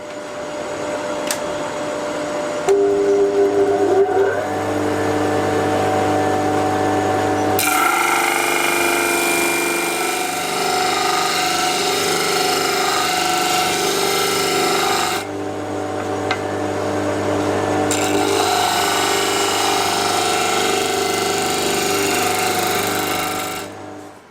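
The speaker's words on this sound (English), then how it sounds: "Whilst the disc sander quickly deals with this side here, it won't get into the internal radii very well." A disc sander shaping a wooden knife handle, a loud continuous motor whine with rasping grind as the handle is pressed to the disc, paused briefly twice between passes.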